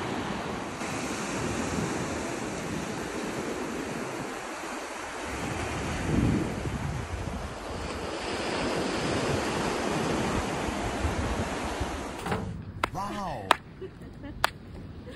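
Waves washing onto a beach near Olympia, Greece, as a steady roar of surf mixed with wind noise on the microphone, with a few clicks and handling knocks near the end.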